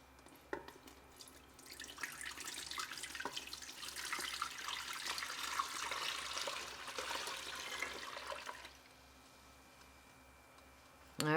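A pot that held strained chicken stock is rinsed under a running kitchen tap, a steady broadband rush of water splashing for about eight seconds before cutting off, leaving quiet room tone and a brief knock at the end.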